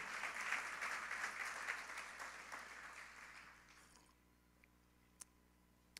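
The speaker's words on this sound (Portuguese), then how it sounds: "dê uma salva de palmas ao Senhor" Applause fills a church service, a sustained wash of many hands clapping for about four seconds before dying away into near silence broken by a couple of isolated faint clicks.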